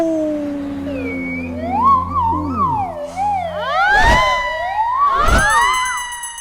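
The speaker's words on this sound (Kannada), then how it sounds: "ಸೈರನ್ ಸಿಗಾಯ್ತಲ್ಲಪ್ಪ" A police siren wails in rising and falling sweeps, with two sharp thumps partway through and no talking.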